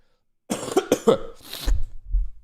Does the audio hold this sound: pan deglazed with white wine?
no